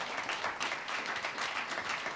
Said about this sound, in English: Let's give them a round of applause for being a great panel.